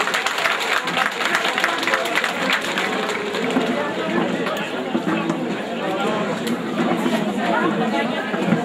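Audience at the opening of an Alevi cultural association in Kadirli applauds to welcome a singer, steady dense clapping with crowd chatter throughout, loud and continuous.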